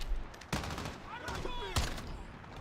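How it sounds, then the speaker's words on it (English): Gunfire in the video game Call of Duty Modern Warfare, two sharp shots about a second apart over a steady background, with a voice faintly present. "Who are they shooting at?"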